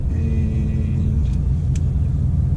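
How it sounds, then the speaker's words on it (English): A 2017 Ford Mustang GT V8 with a manual gearbox idles in a steady, loud low rumble, with a couple of faint clicks near the end. "I'll just stop the engine."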